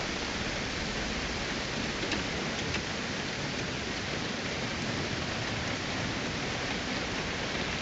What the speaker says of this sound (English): this rain is kind of loud